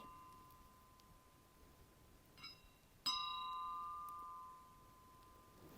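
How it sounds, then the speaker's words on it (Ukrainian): Vintage 1950s cut crystal wine glasses chime in a quiet room: one faint ring, then a single clearer, brighter strike that sustains and slowly fades. "Ось таких три фужери. Дзвін просто нереальний."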